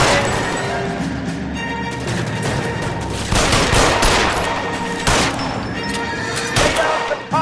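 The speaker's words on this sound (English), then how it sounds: "Lay down some covering fire." Gunfire rattles in the LA Noire crime game, volleys of rapid shots and sharp cracks over a droning background, loud and close with a few distinct bursts.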